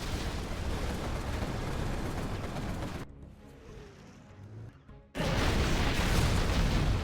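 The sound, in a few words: artillery fire in a real-time strategy video game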